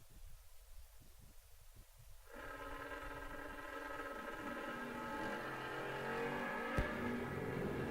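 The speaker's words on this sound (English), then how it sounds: "The Buyer's Remorse Monte Carlo dialed 715. Going to get chased down by Brownstown, Michigan's Jason Profit." Drag race at a no-box event between a Monte Carlo and a 1998 Camaro: engines roar up from a rumbling idle into loud, rising acceleration that builds and holds to the end.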